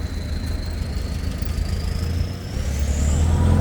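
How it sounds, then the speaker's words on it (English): An old truck passing on a street outdoors, a loud low engine rumble with a rising whine that grows closer and heavier toward the end, with no talking. "Look at that old truck there."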